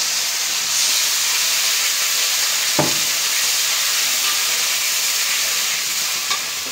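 Water hits a hot pan of fried onions in a village Bengali kitchen, a sharp burst of sizzling partway through over a constant loud, close frying hiss, with no talking.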